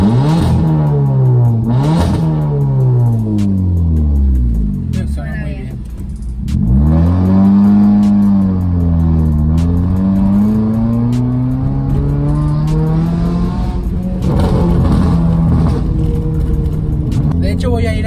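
A car engine with a modified exhaust revs repeatedly, its pitch rising and falling in loud swells, with people talking over the rumble.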